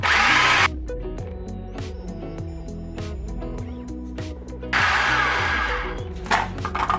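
A food processor whirs loudly as it blends a ricotta and basil mixture, with a sustained motor drone that briefly cuts out and then restarts, close and alone.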